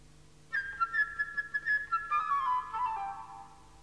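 Solo flute playing the bird theme from Peter and the Wolf: a bright, quick run of short staccato trills and flourishes ending in a longer falling phrase, clear and close with no talking.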